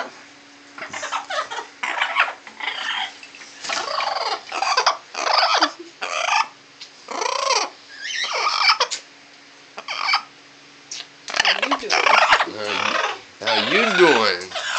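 A parrot lets out rapid, harsh squawks and gobbling screeches in repeated bursts, loud and close over a steady background hum, with occasional pauses between outbursts.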